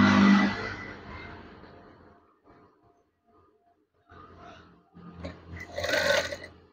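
A sewing machine stitching soft voile curtain fabric, a loud whirring run at the start that fades out, a quiet gap, then further bursts of stitching that build up again near the end.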